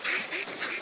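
A duck in the Hunt: Showdown video game gives a quick run of nasal quacks, three or so honking bursts in rapid succession, fairly close and clear.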